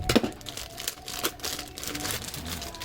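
A portable karaoke echo mixer with dual mic inputs is pulled out of its plastic wrapping, giving close, continuous crinkling and rustling with a few sharper crackles and no talking.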